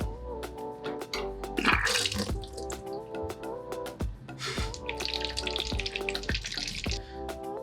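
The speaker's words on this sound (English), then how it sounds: "Next, we'll drain the spent leaves from the bottom of the fermenter." Liquid and spent leaves drain from the bottom of a stainless steel wine fermenter, a continuous close splashing gush broken by irregular clanks and knocks under a faint tonal hum.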